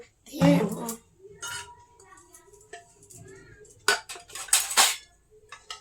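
Mutton curry being served into a bowl: several sharp clinks of a ladle against the dish, one near the start and a cluster toward the end, with a voice heard briefly between them.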